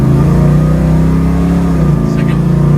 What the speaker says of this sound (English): So this time I'm going to do manual shifting.